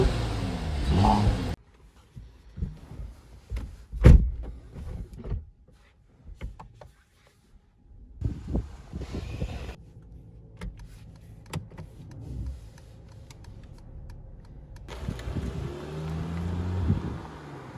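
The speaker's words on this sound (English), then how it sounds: "So let me just start this one up and let's take this car out for a drive." A 2020 Mercedes-Benz E450 Cabriolet is started and driven off. Cabin sounds come in patches and cuts, with mechanical whirs and clicks, a low engine hum and rumble, and road noise building toward the end.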